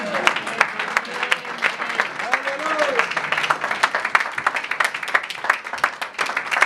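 A church congregation at a New Year's Eve service applauds with steady, sustained clapping, fairly close and full, with voices mixed into the applause.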